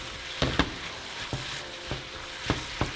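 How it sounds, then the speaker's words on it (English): Ground meat mixed with dissolved cornstarch cooks in a pan for Mexican pizza, with a constant sizzle and frying hiss under a few sharp stirring scrapes and taps spread through the clip. "we're going to mix it all together and finish cooking it for about 5 minutes"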